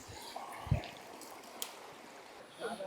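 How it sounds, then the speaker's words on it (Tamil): Clear, cold water flows freely in a mountain stream on a trek up Tadiandamol peak in Coorg, a faint steady trickle with a couple of soft knocks and no talk. "ஒரு இடத்துல கூட ஸ்டே பண்ணாமல் தண்ணி வந்து ஃப்ரீயாக வந்துட்டுருக்கு."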